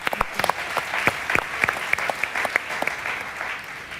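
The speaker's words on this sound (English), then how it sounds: "Big applause." Conference audience applauding after a panelist's introduction at a startup event, with distinct individual claps standing out over a steady bed of clapping for about four seconds.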